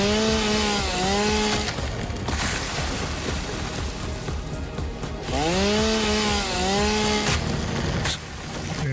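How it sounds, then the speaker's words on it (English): Chainsaw cutting in an automation video game: a loud continuous buzzing saw runs throughout, with revving pitch swoops at the start and again midway, with no talk. "So back to the chainsaw."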